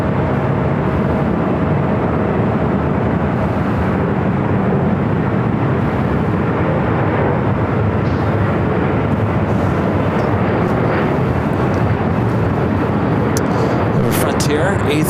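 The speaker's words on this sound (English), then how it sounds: "Japan Airlines 787-9 Dreamliner taking off 25 right on the south side" A Japan Airlines Boeing 787-9 Dreamliner takes off from runway 25 right at LAX, a loud, steady broadband jet roar that holds for the whole stretch with a low rumble underneath. A voice is talking over it.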